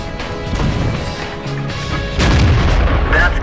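Tank destroyer SU-85 B main gun firing in World of Tanks, heavy booming artillery-like reports within dense, loud battle noise that swells louder in the second half.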